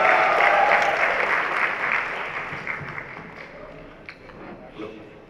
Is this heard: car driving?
no